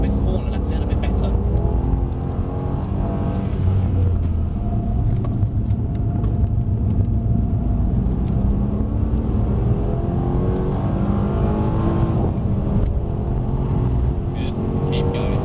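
Engine of a Mercedes C63s AMG on a driving circuit at Mercedes-Benz World, a steady low rumble running throughout at close range, with occasional voices talking over it.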